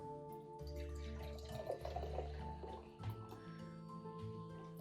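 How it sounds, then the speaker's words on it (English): Sparkling water trickles and drips into a cup, with a quiet, uneven pour and faint fizzing spatters that end in a small clink. "first, you're going to want to pour your beverage into the cup."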